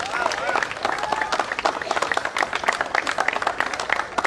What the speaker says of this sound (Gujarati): બધા તાળીઓ પાડજો થોડું